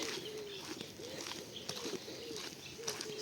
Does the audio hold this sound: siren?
no